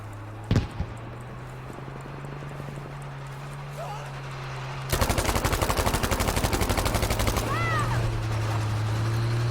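In Battlefield V, a Thompson M1928A1 submachine gun fires a rapid sustained burst of about two and a half seconds after a lone shot, over a steady engine drone, with people talking.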